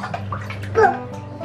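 Baby twins splash water in a bath with a rubber Stormtrooper duck, making a steady wet sloshing with a brief louder splash partway through, while a small voice babbles faintly over it.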